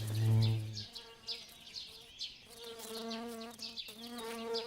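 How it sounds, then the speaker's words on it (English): Steady, close buzzing of mason bees hovering and darting about their nest holes in hollow stems, the drone rising and falling in pitch as they move, with no other sounds. "The hollow stems are a favorite with mason bees. They patrol the nest holes, waiting for potential mates."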